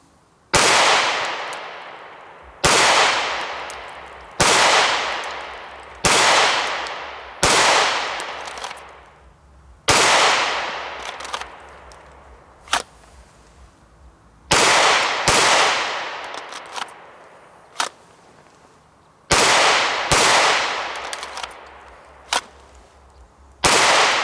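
A Smith & Wesson M&P 9mm pistol fires at a target in a run of sharp, loud, close reports, singles and quick pairs spaced across the stretch, each followed by a short decaying echo.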